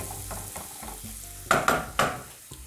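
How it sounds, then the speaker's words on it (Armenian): Carrots fry in a pan, giving a soft, close sizzle with stirring scrapes and a few louder spatula clatters partway through. "Գազարը տապակում ենք այնքան, մինչև փափկի։"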